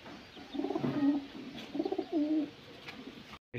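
Pigeons in a pigeon loft give a few soft, throaty coos in short phrases, close by against a quiet background.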